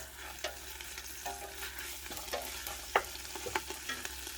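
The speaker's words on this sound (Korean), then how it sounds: "이렇게 해서 좀 들들 볶아줍니다" Seaweed for miyeokguk is stir-fried over high heat, with a continuous soft sizzle and intermittent scraping and clinking of the utensil against the pot, heard close up.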